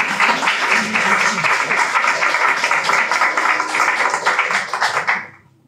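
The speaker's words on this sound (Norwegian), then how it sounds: "Gi han gjerne en applaus." Applause from a breakfast-meeting audience on the Grønn Plattform, a steady, dense wash of clapping that holds for about five seconds and then fades out quickly.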